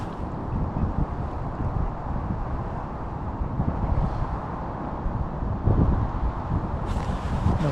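Strong wind gusts buffeting an outdoor microphone beside a fishing lake, a continuous low rumbling roar that swells and surges in waves.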